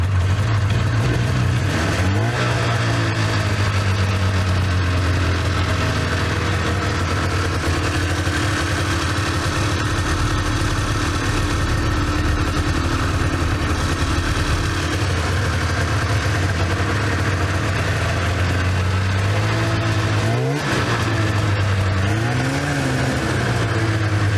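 A Polaris snowmobile engine rumbles steadily and loudly throughout, with a couple of brief revs rising and falling in pitch near the start and again toward the end.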